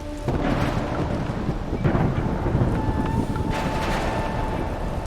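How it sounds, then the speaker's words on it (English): Thunder rumbles through an overnight thunderstorm with steady rain and wind noise buffeting the microphone, a continuous loud wash of broadband noise that swells at moments. "and I mean, it's thundering and lightning."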